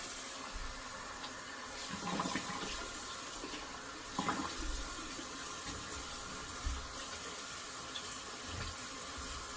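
Running water rinses a sharpening stone and blade edge, a steady tap-like flow with a few louder splashing bursts, moderately faint and alone with no talk.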